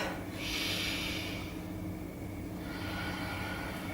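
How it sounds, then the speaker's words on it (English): During a yoga session, a slow deep breath in and out sounds faintly as soft airy rushes over a low, constant background hum, with no talking. "Let's take a deep breath in and out."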